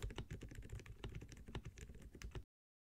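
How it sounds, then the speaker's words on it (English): Muted, rapid keystrokes from a quiet keyboard, soft dull taps in a steady flurry close up, then sudden silence. "So today we'll be building a silent keyboard."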